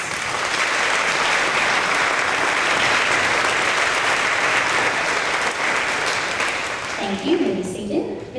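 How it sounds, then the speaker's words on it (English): Parents and students applaud spelling bee participants at a fifth grade promotion ceremony, a full, steady round of crowd clapping that tapers off with some talk at the end. "So I want to give both our parents and our students who participated in our spelling bee a round of applause"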